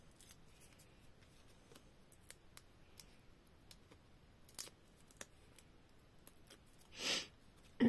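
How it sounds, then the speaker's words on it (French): Double-sided 3D foam tape is peeled away while a pop-up staircase Christmas card is crafted; faint scattered ticks give way to one short, louder tearing rasp near the end, with no talking. "j'essaye de décoller le scotch 3D"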